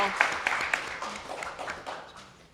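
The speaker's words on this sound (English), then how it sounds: "let's have a round of applause for our panelists" A seated audience at a Brooklyn Law School panel event claps for the panelists, a soft, scattered round of applause that thins and fades while a voice talks over it.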